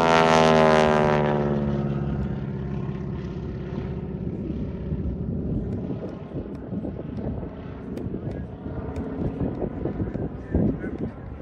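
Propeller aircraft flying a high-G aerobatic routine at an airshow, its engine note loud at first with a rising whine, then settling into a steadier drone with wind buffeting the microphone and faint commentary underneath.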